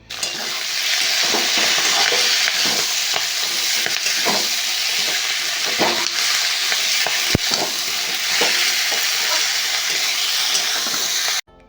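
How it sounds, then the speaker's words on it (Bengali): Vegetables and spinach are stir-fried with spices in a hot pan, giving a loud continuous sizzle broken by repeated scraping stirs and occasional sharp clinks. "সমস্ত সবজিগুলো মশলার সাথে ভালোভাবে কষাতে হবে।"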